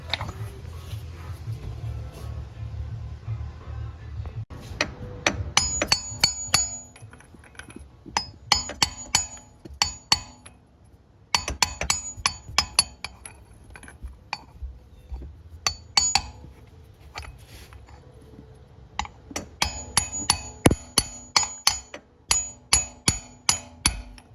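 A 24 mm impact socket is tapped with a hammer to drive the front output prop shaft seal into a 2014-2019 Honda TRX420/500 Fourtrax Rancher Foreman ATV, producing close, sharp metallic strikes in repeated bursts.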